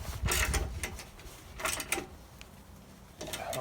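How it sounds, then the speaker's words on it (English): A 19 mm wrench tightening a bolt on a winch mounted on a Jeep Wrangler, heard as short, close mechanical clicks and ratcheting bursts with small pauses between them. "So this is a 19 millimeter, and it does fit in there unlike my others. And so now I can go ahead and tighten it down."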